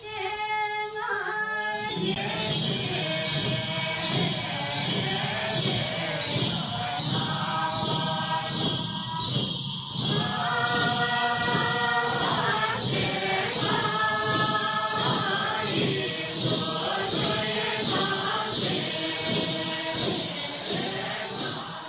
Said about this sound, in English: That's the sound of thousands of practitioners at one of the huge meetings in Bhutan.